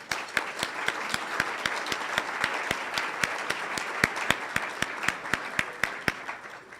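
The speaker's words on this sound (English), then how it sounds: "So if we'll give every sponsor just a big round of applause." A seated audience at a talk event applauds the sponsors with moderately loud, fairly sparse clapping. Distinct individual claps stand out sharply against the softer patter of the crowd.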